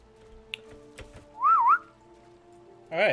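A loud, warbling whistle from a character in the video game Final Fantasy XIV, rising and falling for about half a second over faint background game sounds, followed by a short second whistle burst at the end.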